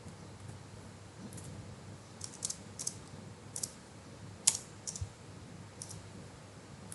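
Typing on a computer keyboard, quiet irregular clicks and a few sharper keystrokes tapped out in short clusters against a faint room hum.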